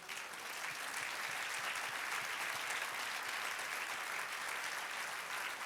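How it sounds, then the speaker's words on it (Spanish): A church congregation claps steadily throughout, a dense and sustained wash of applause close by with no voices over it. "Dale un aplauso al Señor."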